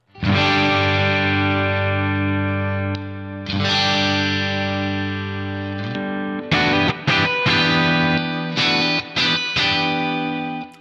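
Mooer MMT 100FR Floyd Rose electric guitar played on its neck pickup with heavy distortion, sustained thick chords ringing out, then choppy palm-muted stabs and short bursts near the end.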